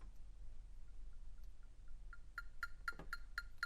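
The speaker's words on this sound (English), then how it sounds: "So these are the 8th notes, and this is what we use for the metronome." A metronome set to click eighth notes at a quarter-note tempo of 126 for an all-state percussion demonstration, giving a steady run of sharp, evenly spaced ticks that grow louder and more distinct as they continue.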